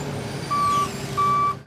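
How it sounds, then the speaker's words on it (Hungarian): A road construction machine gives two steady reversing beeps over the low rumble of engines as cars move slowly past the work at a busy signal-controlled intersection. No one speaks. "Lassú tempóban a munkagépek mellett haladnak az autók a forgalmas kereszteződésben."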